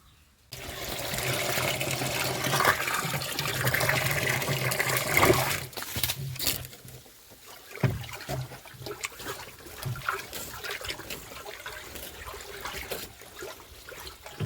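Water gushes and splashes into a drum for mixing banana fertilizer, a loud steady pour for several seconds that then drops to a softer trickle and sloshing.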